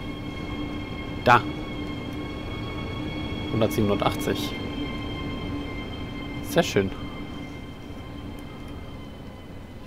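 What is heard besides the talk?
passing freight train in Train Sim World 3 video game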